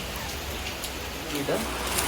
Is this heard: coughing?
no